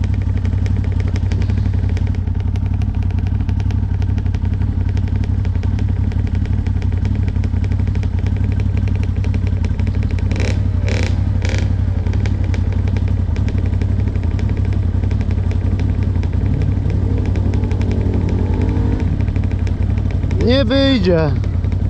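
A quad bike engine runs continuously while being ridden outdoors, a loud, buzzing mid-pitched drone with rattling clatter throughout, as people talk over it.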